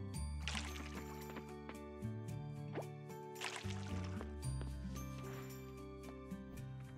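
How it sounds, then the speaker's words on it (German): Crops are watered in the farming game Coral Island with soft, quiet dripping and pouring water sounds, mixed with gentle background music. "So, einmal andersrum gießen."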